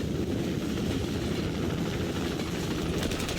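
A helicopter being shot down in the action film Extraction 2 gives a loud, dense rotor and engine roar with rumbling low end, continuous for a few seconds, with a faint rhythmic chop near the end.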